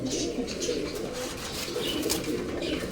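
Pigeons in a loft give soft, repeated throaty coos that overlap one another, close and steady, with faint chirps and rustling behind them.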